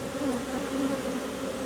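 A dense, steady buzz of many honeybees swarms around an open hive during a colony split, close and continuous, with no pauses.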